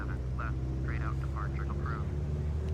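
An Airbus A380 airliner in a flight simulator game roars with a steady low engine drone, while a voice talks over it throughout.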